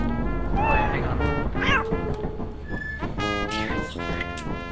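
Cat meowing in the video game Lethal Company, several close mewing calls heard over players talking.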